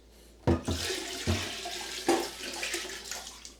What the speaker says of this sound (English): So I can pour all this out into the toilet.